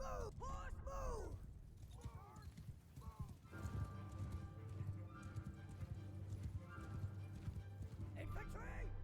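Cavalry horses in the video game Mount & Blade Bannerlord clop along in steady hoofbeats, with several neighs and whinnies over battle ambience, a busy mid-distance herd sound that stays quiet overall.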